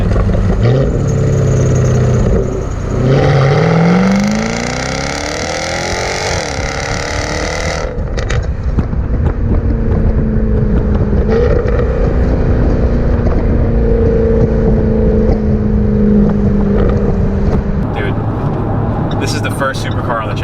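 A Jaguar F-Type R AWD sports car engine revs hard, then the car roars past up close with a rising and falling whoosh, followed by a steady engine drone as people talk over it.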